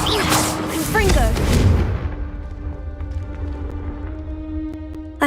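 A Confringo fire spell blasts in Hogwarts Legacy: a loud, rumbling explosive burst with crackling debris over about two seconds, then it drops away to a quiet sustained musical tone.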